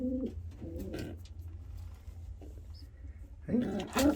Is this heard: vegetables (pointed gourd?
no